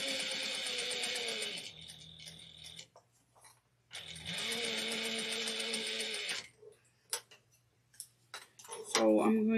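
A sewing machine runs in two steady bursts of fast mechanical stitching while right sides of fabric pieces for a mini convertible garment are joined, with quiet pauses and handling noises between runs and brief talking near the end.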